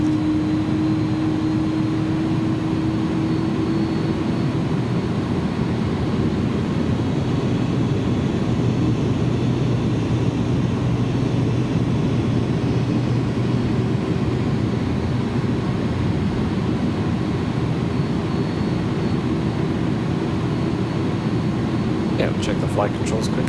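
An iniBuilds A310 airliner taxiing in X-Plane 11, a loud, steady jet engine drone with a low hum and a faint rising whine throughout, a few clicks near the end.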